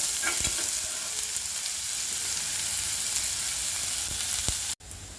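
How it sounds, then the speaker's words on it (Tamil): Onions sauté in a pan for an okra stir-fry, a dense, even sizzle close by with a few stirring clicks, cut by a brief dropout near the end. "வெங்காயம் போட்டு வெங்காயம் நல்லா வதங்கி வரணும்"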